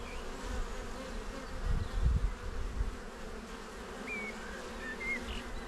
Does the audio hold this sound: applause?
no